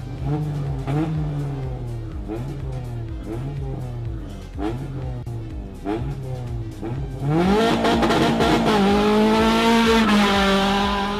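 A Honda Civic race car at the Eliyakanda hill climb, engine revving hard with rising harmonic pitch through gear changes, then surging louder as it accelerates up the hill, loud and close with no talk.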